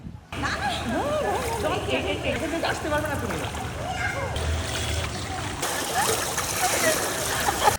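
Water splashes and sloshes continuously as people swim in the sea at Cox's Bazar, heard close and fairly loud, with voices talking over it.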